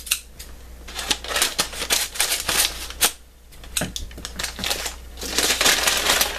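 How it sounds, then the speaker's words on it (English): Scissors cutting open a stapled mystery bag of CDs, a run of crisp rapid snips and crinkling plastic, close and loud with irregular bursts, no talk. "Scissors."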